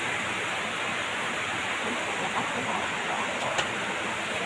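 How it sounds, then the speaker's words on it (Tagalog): Steady broadband rush of a river running high after rain, continuous and close, with no clear breaks or other sounds on top. "yung ilog, oh"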